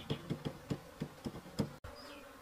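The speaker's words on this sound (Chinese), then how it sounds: "把蜜蜂往上赶。" Wild honeybees buzzing at a bee box under fruit trees: faint, close buzzing in a quick series of rhythmic pulses, then a short break before a softer hum.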